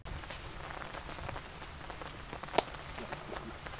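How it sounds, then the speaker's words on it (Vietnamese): Heavy rain falls steadily on a surface outdoors during a wild fishing trip, a dense, even patter with one sharper knock partway through and no voices. "giờ trời mưa to"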